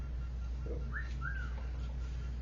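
Two short rising whistle effects from a soundboard chirp in quick succession, faint and over a low steady hum.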